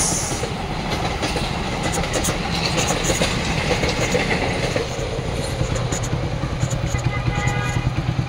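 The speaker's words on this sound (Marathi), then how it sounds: "तर इथून ट्रेन जात आहे पुणे एर्नाकुलम एक्सप्रेस" Pune–Ernakulam Express train rolling past at close range, a loud continuous rumble of wheels and carriages with rhythmic clatter holding steady throughout.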